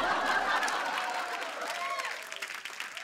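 Studio audience applauds on a TV game show, a short burst of clapping mixed with chuckles and crowd noise, fading over a few seconds.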